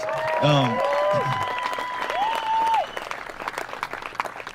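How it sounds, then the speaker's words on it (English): Crowd applause for Colton at a charity golf fundraiser, scattered clapping and cheering outdoors, mixed with whoops and raised voices early on, then thinning to lighter claps. "So everybody give Colton a round of applause."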